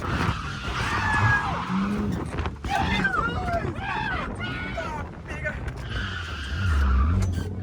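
A car brakes hard and skids on a track, with tires squealing and warbling in several bursts over a running engine, close and loud, while people talk excitedly throughout.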